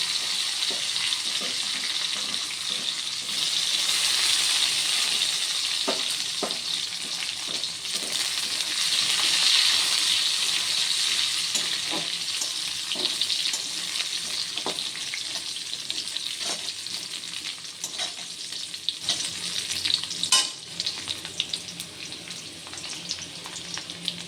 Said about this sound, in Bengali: আমার এখন কাজু কিশমিশটা ভাজা হয়ে গেছে